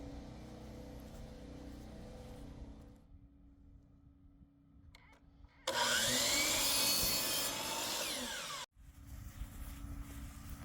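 Electric chop saw cutting wood outdoors, powered from a generator near a greenhouse build site; a loud, steady whining cut of about three seconds rises abruptly over a low background rumble, then stops sharply.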